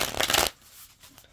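Tarot cards shuffled in one quick riffle burst lasting about half a second, close and crisp, then soft faint handling noise afterwards.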